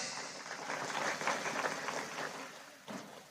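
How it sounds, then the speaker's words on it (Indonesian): Audience applause at a religious sermon during a PBB anniversary gathering: a steady wash of clapping from many hands that swells, thins out, then ends with a brief final burst. "Tepuk tangan untuk pemuda bangkes nih."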